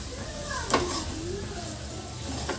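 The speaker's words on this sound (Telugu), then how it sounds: "ఇవి ఆయిల్లో బాగా ఫ్రై అవ్వాలండి." Field beans frying in oil with turmeric in a pan, a steady broadband sizzle with a single brief utensil clink near the start and another toward the end, close and continuous.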